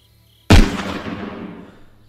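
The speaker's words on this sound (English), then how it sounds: "hold up, I'm gonna shoot one." A single loud, close gunshot in DayZ cracks out of near silence, then rolls into a long echoing boom that fades slowly over the next second and a half.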